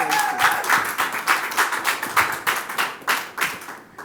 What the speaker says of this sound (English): Let us give her another round of applause